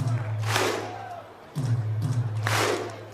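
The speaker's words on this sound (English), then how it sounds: "first the Viking clap with the crowd and Christian Sorum" A beach volleyball crowd at the Gstaad final does the Viking clap, two big synchronized claps with deep shouted grunts about two seconds apart, loud and massed over a low background hum.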